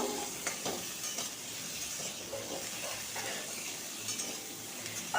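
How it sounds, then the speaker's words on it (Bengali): Pumpkin is stir-fried in a pan for a vegetarian pumpkin and potato curry. There is a soft, fairly quiet sizzle with intermittent stirring scrapes and clinks of a utensil against the pan. "কুমড়োটাকে ভালো করে ভেজে নেব"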